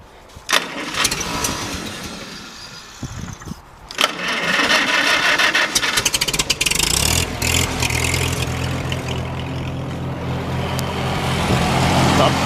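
A 1950 Ford F5 truck engine cranks with a few short starter bursts, then catches and settles into a loud, steady rumbling idle close by.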